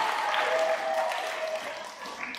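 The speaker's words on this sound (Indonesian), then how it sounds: "Sekarang baru kamu tepuk tangan untuk saya." An audience at a leadership retreat in Mataram claps steadily, a brief, fairly loud round of applause that holds level and tapers slightly near the end.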